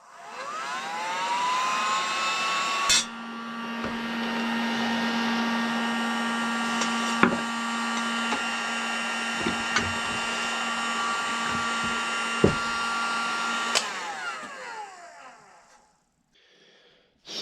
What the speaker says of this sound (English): So I'm going to again heat it with the heat gun